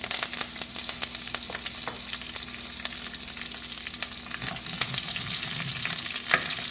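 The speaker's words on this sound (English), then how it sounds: "The mustard seeds and the cumin seeds are spluttering" Mustard and cumin seeds splutter in hot oil with a steady, close sizzle broken by sharp popping crackles.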